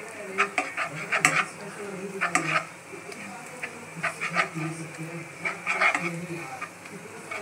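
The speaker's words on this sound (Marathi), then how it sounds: "त्या तेलामध्ये बेसन थोडंसं असं भाजून घ्यायचं" Gram flour roasting in a little oil for dhaba-style paneer bhurji, with a spoon scraping and clinking against the pan in uneven bursts over a faint sizzle, close by, with some low background sound.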